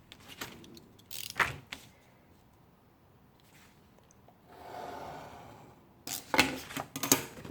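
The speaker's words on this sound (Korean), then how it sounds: "접은 다음에 가운데를 칼로 잘라줍니다. 지금 자를게요." Folded paper sliced down the middle with a knife for a handmade book, heard as close scraping and rustling handling bursts separated by a longer quiet stretch of soft cutting.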